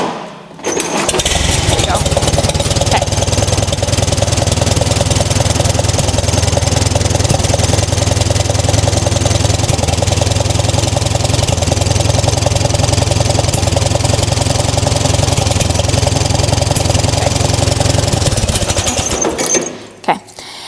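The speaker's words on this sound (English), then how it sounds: "So let's start the tractor up and see what we have." A 6-volt tractor engine cranks and catches, then idles steadily and loudly for about eighteen seconds with a continuous low rumble before shutting off.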